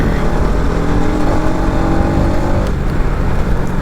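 A Bajaj NS200 motorcycle engine runs close and loud with a fault that makes the RPM rise by itself. Its engine drone holds steady and slightly climbs in a continuous hum, with no talking.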